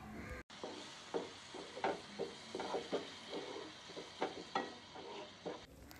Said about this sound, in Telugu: ఇలా బీట్ చేసుకుని పెరుగుని వేయించిన ఆనియన్స్లో వేసి బాగా వేయించండి.